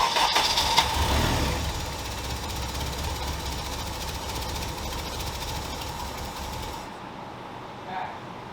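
A turbocharged Acura RSX engine fires up with a loud, steady running roar, settling into a rough idle after the first couple of seconds before cutting off near the end; no talk is heard.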